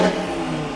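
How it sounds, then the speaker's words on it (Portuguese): An Audi TT switched into sport mode revs hard, a loud, close engine roar held as a steady, throaty drone for a brief moment with no talk over it. "Já ronca mais forte."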